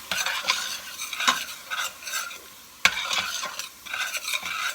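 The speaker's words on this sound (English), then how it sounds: "I'm going to stir that up." A spoon stirs white chicken chili ingredients in a pot with a soft sizzle beneath, making scraping, clinking strokes in an uneven rhythm with one sharper knock against the pot, close up and without talk.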